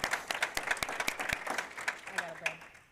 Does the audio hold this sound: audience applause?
yes